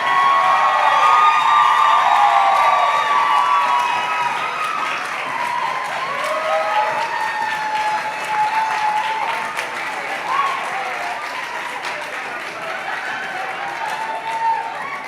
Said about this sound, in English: let's give all of our models and designers a huge round of applause